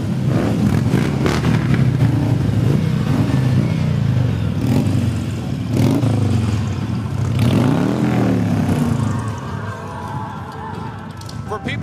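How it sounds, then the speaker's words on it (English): Motorcycles of the Patriot Guard Riders rumble past in a Veterans Day parade in Knoxville, Tennessee, engines droning and revving loudly and continuously under crowd noise. "These are the Patriot Guard Riders, another motorcycle group that's very active in East Tennessee."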